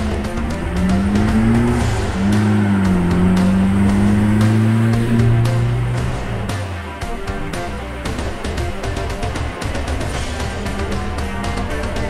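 Owner-type jeep with a pickup body on a test drive, its engine droning loudly and close with a rising then falling engine tone, followed by steady road and tyre rumble.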